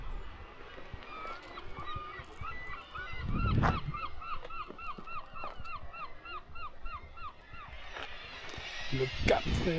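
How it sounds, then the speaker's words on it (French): Seabirds on a rock at Cap Fréhel call in a rapid series of goose-like honks, a fairly distant, continuous chorus of repeated nasal cries with scattered louder bursts, while a person speaks nearby. "Petit rocher aux oiseaux ici."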